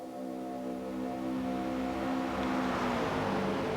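Toyota GR86 Cup race car at Road America accelerating flat out, engine note climbing steadily in pitch and loudness as revs build, heard from on board with no talk.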